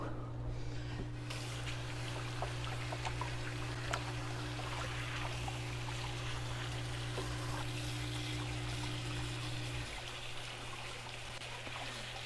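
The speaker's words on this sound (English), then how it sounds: "It's silent other than water running." A kitchen faucet runs in a faint, steady trickle while hands are washed during a live peanut butter ball baking session, with a low hum underneath and no talk.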